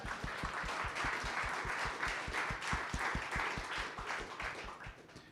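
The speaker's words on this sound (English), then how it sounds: "Give them a round of applause." An audience applauds at a business talk event, giving a round of applause with rhythmic clapping at a steady pace, moderately loud and fading slightly at the end.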